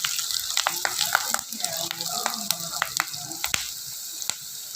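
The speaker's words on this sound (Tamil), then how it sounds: "எல்லாத்தையும் போட்டு நல்லா அப்படியே ரெண்டு கிளறி கிளறி விட்டுக்கலாம்" Onions and curry leaves frying in a pan for village-style sundakkai kuzhambu, a close sizzle broken by repeated stirring scrapes and clatters from a spoon.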